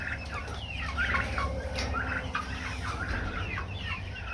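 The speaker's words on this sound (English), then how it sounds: "We got our little chickens in here." Chickens clucking and turkeys gobbling together in a homestead pen, a dense overlapping chorus of close, continuous bird calls over low steady background rumble.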